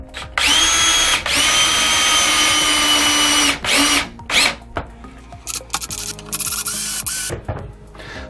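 A power drill drives a screw into a wooden cleat on a kitchen pantry wall, a loud close high whine running steadily for a few seconds, then breaking into short bursts and stops as the screw seats.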